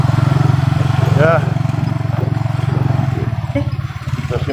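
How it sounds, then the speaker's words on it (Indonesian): Motorcycle engine running close by with a steady, throbbing putter that dips briefly, while people talk over it. "Kita simpan motor di sini saja."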